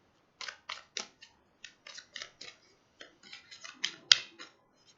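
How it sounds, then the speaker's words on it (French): Osho Zen tarot cards are drawn and handled, making a series of soft, crisp card slides and flicks close by, irregular and quiet, with no talking. "on prend 3 cartes pour cette nouvelle lune"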